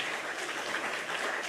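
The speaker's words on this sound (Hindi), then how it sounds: "एक बार जोरदार तालियां से स्वागत करेंगे माननीय मुख्यमंत्री जी का" An audience claps steadily to welcome the Chief Minister at a government event with beneficiaries of a solar self-employment scheme. The applause is dense and continuous throughout.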